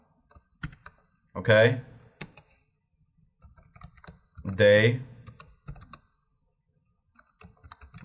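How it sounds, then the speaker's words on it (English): Typing on a computer keyboard in a test automation editor, scattered light key clicks around a few short spoken words. "I see I don't even have to finish typing it."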